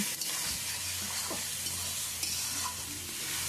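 A spatula stirs spices frying in a wok, with a steady close sizzle and occasional scraping strokes against the pan, no voices.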